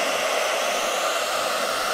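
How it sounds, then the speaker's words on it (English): Handheld blow dryer pushing a steady stream of air for a physics demonstration, a loud, constant broadband whoosh with no talking over it. "So I have a blow dryer here."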